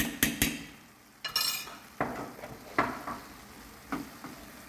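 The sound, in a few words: mixing garlic and salt ingredients in a bowl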